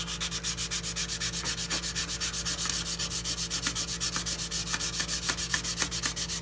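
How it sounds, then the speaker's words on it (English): Steady back-and-forth strokes of a 220 grit sanding pad rasp on rusted metal in a fast, even rhythm, close up and continuous, with a low hum underneath. "This is a 220 grit sanding pad."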